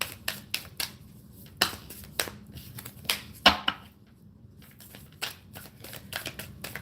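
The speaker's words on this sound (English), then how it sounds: "these are really, really hard to shuffle. They're like matte and they're not slick at all" A deck of matte cards is shuffled by hand in a series of sharp, irregular riffling bursts and slaps spread across seven seconds, close and fairly loud with short quiet gaps and no talking.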